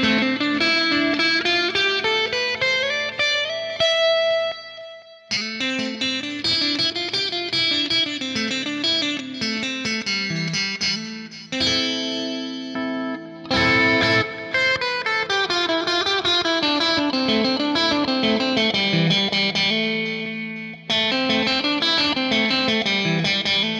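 An electric guitar plays through a Seymour Duncan HyperSwitch pickup selector, running through several sustained, effects-laden passages with distortion and chorus, and the tone changes between sections with brief pauses.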